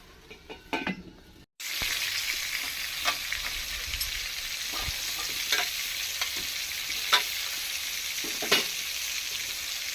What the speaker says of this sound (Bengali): বন্ধুরা দেখুন আমার আলু পটলগুলো ভাজা হয়ে গেছে